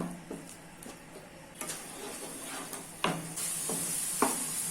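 Misal pav spices fry in a pan over a medium flame while being mixed, making a soft hiss under repeated tapping and scraping spoon strokes that grow louder toward the end, with no talking.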